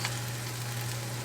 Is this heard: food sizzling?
yes